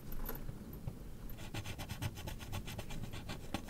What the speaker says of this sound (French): vu que je suis allé en Italie, je peux gratter ma carte